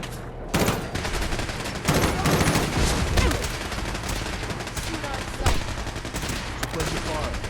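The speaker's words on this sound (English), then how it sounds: "I'm taking fire." Gunfire in the video game Fallout 4 crackles in dense, continuous volleys with sharp louder reports standing out, loud and sustained throughout, with faint radio-style voices mixed in.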